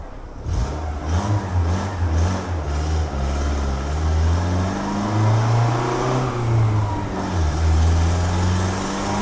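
Honda Civic engine revving repeatedly during tuning after the wastegate is tightened, exhaust droning loudly with rising and falling pitch, steady and close with no talk.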